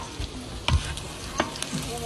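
A spoon stirs chorizo, carnitas, beans and cheese together in a hot pan, with a steady low sizzle broken by a few scraping clinks.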